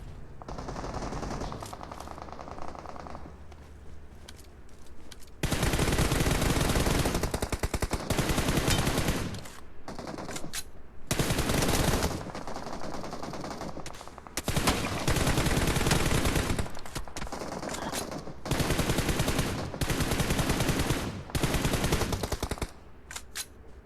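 Sustained automatic gunfire in the shooter game PUBG Mobile, long loud bursts of rapid shots separated by brief pauses, close and dominant throughout.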